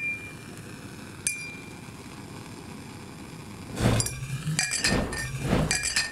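A heated glass rod clinks against a glass flask in a phosphorus demonstration, a single sharp clink early on, then a burst of crackling, rattling reaction noise that grows louder and choppier near the end, with no talking.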